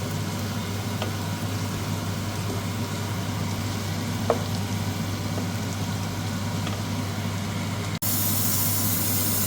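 Onion, shallots and chili frying in a pan, a steady sizzle under a low hum, with occasional light scrapes from stirring and a sharp clunk near the end, close with no talk.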